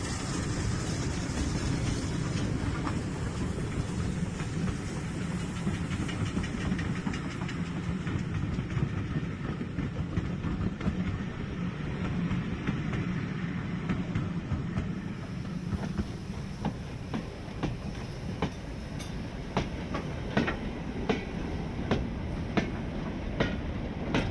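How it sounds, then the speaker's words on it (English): An LMS streamlined Coronation class Pacific steam locomotive hauls an express passenger train past at speed, a continuous loud roar with rhythmic clickety-clack of wheels over rail joints throughout. "Passing at speed is an express passenger train hauled by one of the LMS's streamlined Coronation class Pacifics."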